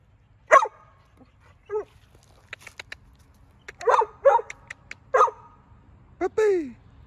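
Several short, sharp barks and yips from a puppy, a buddy male, spaced irregularly through the clip with quiet gaps between them, close and fairly loud.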